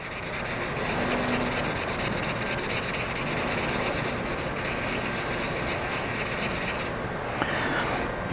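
A Magic Eraser scrubs a powder-coated mug in a steady, continuous rubbing rasp, close and fairly loud throughout, with a brief shift in texture near the end.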